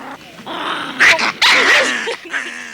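A small dog growls and barks loudly and close by in a television studio, with harsh snarling yaps rising and falling in a tense, continuous burst.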